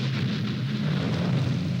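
A cartoon rain sound effect: a dense, steady hiss of falling rain with a low rumbling undertone, continuous and fairly loud, with no talking.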